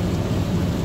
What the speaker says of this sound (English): I just don't like all this rain stuff.